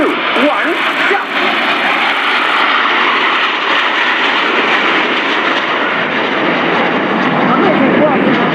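Frecce Tricolori aerobatic jets roar past in a crossing at the RIAT airshow, a loud sustained engine rush under an announcer speaking over the public address.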